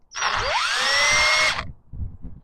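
A power drill whines loudly for just over a second while drilling through reclaimed 2x4 wood, pitch rising as it bites in, followed by a few low knocks and thumps.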